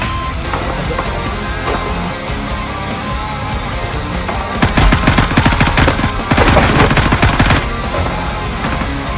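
Gunfire in the shooter game Gray Zone Warfare: loud, rapid automatic bursts rattle in long strings, swelling into dense volleys midway and later, over constant background noise.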